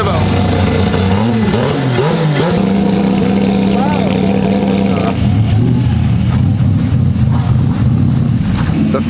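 Someone's three-row turbo drift car holds a loud, steady engine drone with wavering revs that climb and dip, close by and constant, while people talk over it.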